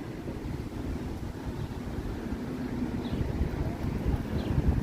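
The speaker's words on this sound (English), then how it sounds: "It's a little bit windy, but not as windy as it was on Friday." Steady gusty wind on a downtown Toronto street buffets the microphone in a low, rumbling roar that swells slightly toward the end, with no talking.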